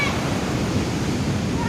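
High surf on a south coast beach, a loud steady roar of breaking waves and rushing water, unbroken across the short stretch.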